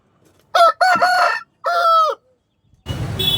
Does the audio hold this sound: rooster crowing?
yes